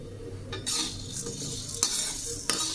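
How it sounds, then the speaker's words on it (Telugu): Dry-roasted lentil powder is stirred in a pan, with repeated scraping strokes and a few sharp utensil knocks against the metal over a soft background sizzle. "అందుకే దాన్ని తిప్పుతూనే ఉండాలి మనము"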